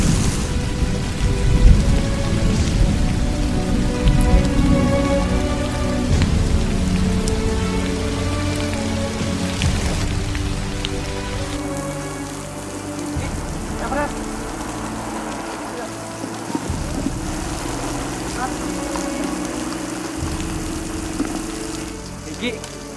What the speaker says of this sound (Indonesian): Tapi sekarang kita malah kena hujan kayak gini deh.